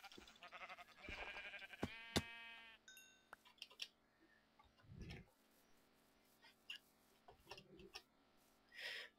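Minecraft sheep bleat in a few short wavering cries, mixed with blocky game sound effects, clicks and footstep-like taps in a quiet game world.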